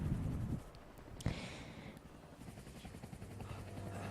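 Helicopter during a shootout in Max Payne 3, a broad rotor-and-engine roar filling the background, with a sharp gunshot-like crack near the middle and no talking.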